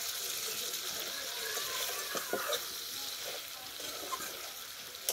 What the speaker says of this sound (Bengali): এটা এবার আমি এর সঙ্গে যেমন করে আমরা মাংস কষাই, আমি ঠিক সেইভাবে কষাবো।